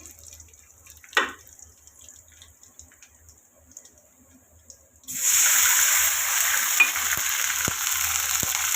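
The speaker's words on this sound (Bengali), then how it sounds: "তো যে একটু পানি দিয়ে দিচ্ছি" Water poured into a hot pan of oil with onions and chillies: a near-quiet stretch with one soft knock, then a sudden loud hissing sizzle that holds steady, dotted with faint clicks.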